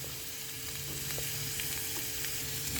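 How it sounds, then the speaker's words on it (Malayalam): Chopped leaves fry with salt and turmeric in a pan, a soft steady sizzle with a low hum and a few faint clicks of stirring underneath. "ഒന്ന് ഇളക്കി അടച്ചു വെച്ച് വേവിച്ചെടുക്കാം."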